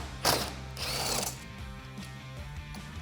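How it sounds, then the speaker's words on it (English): A socket wrench ratchets out a T45 Torx bolt on a Jeep Wrangler JL, giving a close burst of rapid clicking followed by quieter mechanical ticks and a few faint knocks, no talking. "we can take that same socket and remove that"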